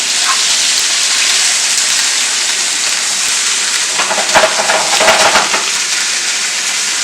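Steak and broccoli sauté in a hot pan, giving a loud, steady hiss of sizzling with bursts of crackle and scraping as the food is tossed around partway through.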